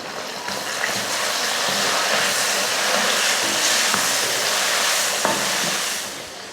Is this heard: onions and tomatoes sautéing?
yes